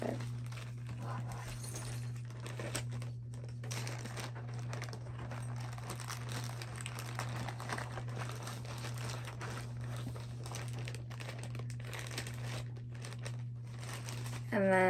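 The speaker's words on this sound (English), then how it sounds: "sorry if you hear some like crinkly sound. There's a paper bag over there that the cats are playing with." A paper bag crinkles intermittently as cats play with it indoors, soft rustles and crackles scattered over a steady low hum, with a voice briefly rising at the end.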